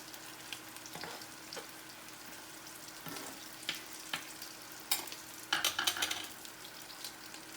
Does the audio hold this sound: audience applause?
no